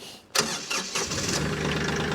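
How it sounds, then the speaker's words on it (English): A 2017 Kioti CK4010 compact tractor loader's diesel engine cranks and catches after a brief quiet moment, then settles into a steady, close idle with no talk over it. "we'll fire this tractor up"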